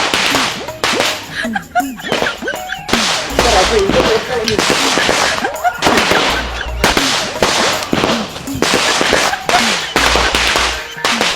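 Firecrackers burst again and again in sharp, loud cracks, some in quick clusters, with voices talking in between, at a Sivakasi fireworks shop.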